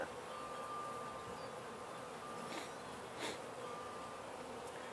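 Honeybees buzzing at a hive entrance, a dense, continuous hum of many insects, faint and steady, with a couple of louder passes as bees fly close.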